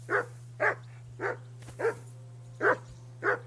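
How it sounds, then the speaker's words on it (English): A dog in the video game Kingdom Come: Deliverance 2 barks six times in a steady rhythm, each bark short and clear, with a low constant hum underneath. "Whistle at that mutt of yours to stop barking!"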